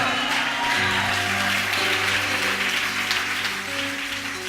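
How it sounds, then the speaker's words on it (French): A congregation cheers and applauds loudly for the Lord at a church gathering, with a dense, steady wash of clapping and shouting that holds for several seconds and fades slightly at the end. "Acclame très fort le Seigneur"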